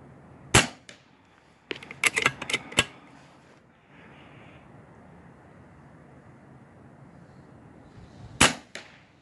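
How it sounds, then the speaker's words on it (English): Sharp, loud cracks from an RTI Priest .25 caliber air rifle: a single shot, then a cluster of several quick reports, a pause with quiet room noise, and two more shots near the end. "Okay, this gun shoots both of them"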